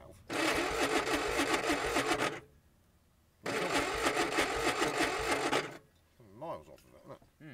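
Ford 105E engine cranking on the starter motor after sitting 20 years in a barn, two bursts of steady churning about two seconds each separated by a pause, followed by brief talk.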